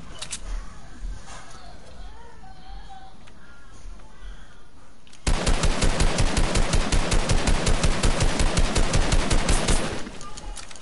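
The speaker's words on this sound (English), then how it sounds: "Shotgun shooting." Rapid, loud gunfire from a shotgun in a video game starts abruptly after quiet background chatter and continues as a dense burst of evenly spaced shots for about five seconds before cutting off.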